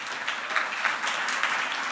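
A conference audience applauds a speaker taking the stage at a Python data event, a soft, even patter of many hands clapping at a moderate distance.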